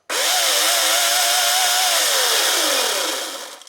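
An AEG 58-volt battery chainsaw runs loud and close with a high electric whine that holds steady, then winds down toward the end.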